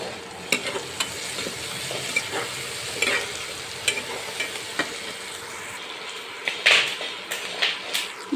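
Green beans and potatoes frying in a pan, a steady sizzle broken by frequent scrapes and clacks of stirring, some sharper bursts near the end, no speech.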